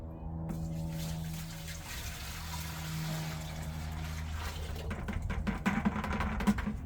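Liquid mixed with dye pours steadily into a birdbath mold shaped to look like rock, a continuous close trickling and splashing that grows more spattery near the end, with no talking.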